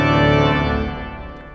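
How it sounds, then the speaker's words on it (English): Every reed stop of a large five-manual Austin pipe organ at First Baptist sounds at once in a massive brassy chord that rings loud and then slowly dies away into the room. "all of the reeds sound like this"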